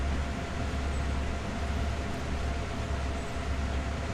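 A train in the Train Sim World 2020 Peninsula Corridor route rolls along with a steady, loud low rumble and broadband hiss, unchanging throughout, with no talk.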